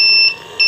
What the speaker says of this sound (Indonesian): Dan ternyata alarm masih berbunyi.